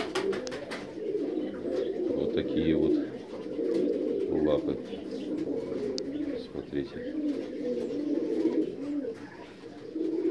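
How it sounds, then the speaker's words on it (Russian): A pigeon, one of a group of kept pigeons, coos in soft, repeated murmurs close by, heard under someone speaking Russian. "Вот он, голубь сидит."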